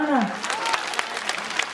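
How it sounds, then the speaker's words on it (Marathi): An audience at a village Home Minister game event in Umbargaon, Pandharpur claps in loose, uneven bursts, while a voice speaks over the clapping at the start. "टाळ्या वाजून सांगा ना"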